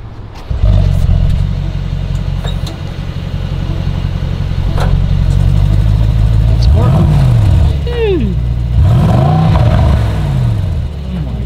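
A powerful car engine starts up close and idles with a deep rumble, then is revved several times in rising and falling bursts while people talk nearby.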